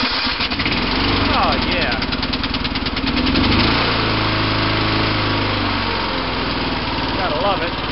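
An off-road lawn mower engine starts and runs at a loud, steady chug with a rough idle throughout. A voice calls out briefly near the start.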